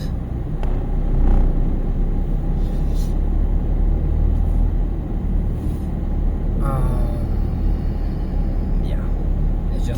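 A truck turns nearby in road traffic, its steady low engine rumble continuous and fairly loud, with a brief rising whine and passing vehicle noise midway.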